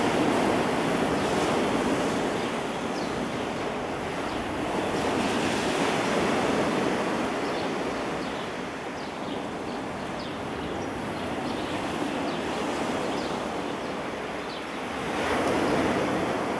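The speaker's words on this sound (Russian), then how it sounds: "Наверное, потому что море штормит." Rough Black Sea surf crashing continuously at Lazarevskoye in March, with strong wind roaring across the microphone, a steady loud wash of stormy sea noise with no voices.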